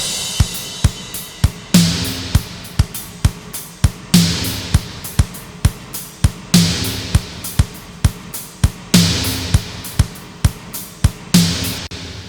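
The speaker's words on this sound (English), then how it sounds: "the main drum kit sounds like this." A punchy 80s-style drum kit plays a steady, repeating groove: tight kick and hi-hat hits with a big, bright, splashy electronic-sounding snare landing regularly.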